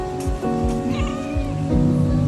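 A little cat meows plaintively for food at a roadside food stall in Malaysia, a few short mews over steady background hum and faint surf-like noise.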